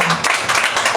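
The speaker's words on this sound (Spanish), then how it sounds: "Dando un aplauso al Señor." A church congregation applauds in a short, loud burst of dense, close clapping.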